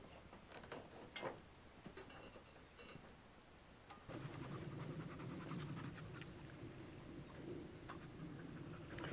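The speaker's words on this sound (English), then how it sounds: "I don't know if you can hear Ash. She just came back from chasing jackrabbits" A dog pants rapidly and steadily up close after chasing jackrabbits, the quick breaths growing louder and continuous partway through, with faint outdoor noise behind.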